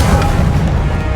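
An Expelliarmus disarming spell fired in the video game Hogwarts Legacy, a short loud booming impact burst with a rumbling tail, heard alone.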